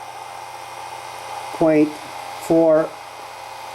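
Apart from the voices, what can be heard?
generator motor speeding up under load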